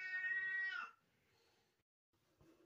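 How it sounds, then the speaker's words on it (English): A cat fight outdoors: one drawn-out, tonal yowl up close, then faint scuffling and a brief low growl as the noise dies down. "had some cats fighting there"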